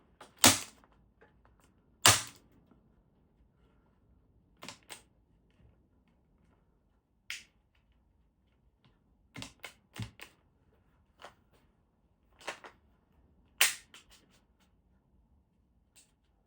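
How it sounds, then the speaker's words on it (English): A staple gun firing into the wood of a bonsai pot being built, sharp isolated snaps spaced irregularly over a quiet room, a few louder and some faint, with no talking. "we're going to use the staple gun, and we're going to staple it all."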